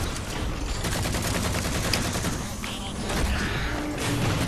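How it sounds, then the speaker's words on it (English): Dense rapid gunfire and a grenade burst in a Halo 4 campaign co-op firefight, with continuous loud shooting and crackling that stays constant throughout. "Threat of a grenade!"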